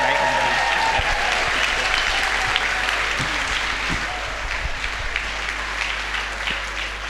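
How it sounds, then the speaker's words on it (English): Lively audience applause for a live choir at a Saturday-night resort show, dense clapping sustained and close throughout, with a low hum of crowd underneath. "So please, one more time, give Andy and the Buskerteers a huge round of applause."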